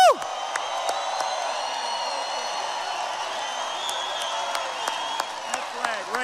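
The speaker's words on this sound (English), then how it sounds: "How about a big round of applause for our military?" A crowd at a political rally applauding and cheering for the military, a sustained wash of clapping and shouts with whoops and brief sharp accents, fairly distant, as a speaker's amplified voice carries over it.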